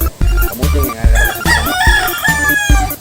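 A rooster crows loudly over a strong rhythmic music beat, the crow rising and drawn out.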